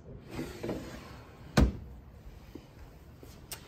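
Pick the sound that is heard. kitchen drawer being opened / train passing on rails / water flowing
kitchen drawer being opened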